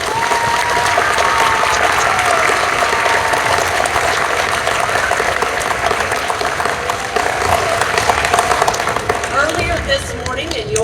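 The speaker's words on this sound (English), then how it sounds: "So if you would please give them a round of applause." An elementary school audience applauds at a celebration, sustained dense clapping from a crowd that holds steady for about ten seconds, close and loud with faint voices mixed in.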